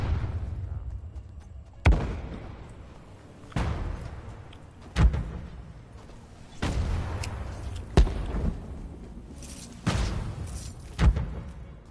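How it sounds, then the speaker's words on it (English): Gunfire in the Fortnite battle royale game, a series of sharp booming shots spaced every second or two, each trailing off into a rumbling decay over steady game background, with no speech. "I'm getting shot at."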